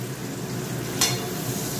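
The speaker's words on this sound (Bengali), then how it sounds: "আগে একটা বিট ভেজে নিই ভালো করে।" A thick, crooked eggplant fries in a pan with a steady, even sizzle, and one brief clatter of a utensil stirring partway through.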